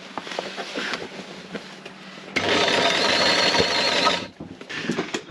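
A sewing machine stitches straps. Light clicks and short bursts are followed by a sustained, loud run of rapid stitching lasting nearly two seconds, then a brief pause and more short bursts, all close up.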